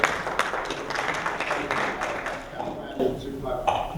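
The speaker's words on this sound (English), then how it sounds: "let us give him a round of applause" An audience at Essex County College applauds to welcome the King of Ghana, a dense, steady wash of many hands clapping at close range for several seconds, fading slightly near the end as a voice begins over it.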